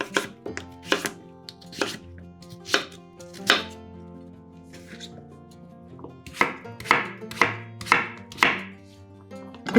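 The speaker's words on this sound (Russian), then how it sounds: "Подготовленную тыкву нарезаем небольшими кусочками." A knife chops peeled pumpkin into small pieces on a board, sharp knocks landing in irregular bursts, a few spaced strikes, a pause, then a quick run of chops, close and alone.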